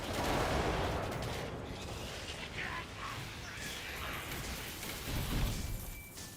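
Rapid shooting attacks in Torchlight 3, a steady busy clatter of game combat with repeated impacts and bursts throughout, fairly quiet and mixed with spell-like effects.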